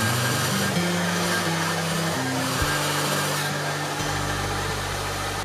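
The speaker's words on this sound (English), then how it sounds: "I dry my hair upside down just to get a bit more volume at the root" A hair dryer runs steadily while thick hair is dried upside down, a loud, close, continuous whooshing drone with slight shifts in pitch as it moves.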